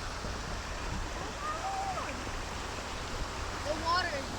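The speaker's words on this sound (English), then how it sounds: "That pond has now overflowed. It's over its embankment." Overflowing pond water from Tropical Storm Fred rushes across a road in Avery County, western North Carolina, a steady, close roar with a few bird chirps high above and a voice speaking over it.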